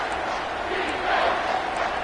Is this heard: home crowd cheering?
yes